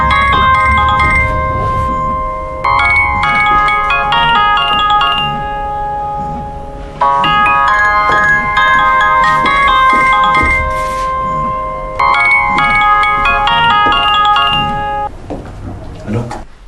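A melodic phone ringtone repeats in several loud, close bursts of electronic chiming tones, with short gaps between phrases and faint voices underneath.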